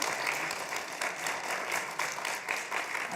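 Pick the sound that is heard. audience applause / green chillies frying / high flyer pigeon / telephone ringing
audience applause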